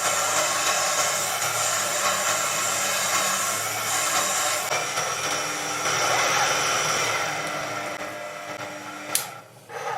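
A CJ0618 7x12 mini lathe drills metal with a steady, grinding whine, continuous throughout with a brief sharp click near the end.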